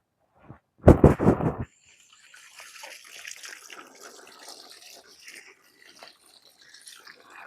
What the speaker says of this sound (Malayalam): കഴുകട്ടെ, കഴുകട്ടെ, കഴുകി കാണിച്ചു തരാം.